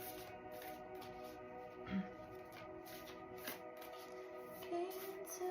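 Tarot cards being shuffled by hand, soft repeated riffling and slapping of the deck, faint and close, with a few louder flicks and no speech.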